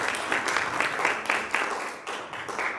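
An audience claps in a series of bursts at a county commission forum. The applause is moderately loud and uneven, and a faint voice sits underneath it.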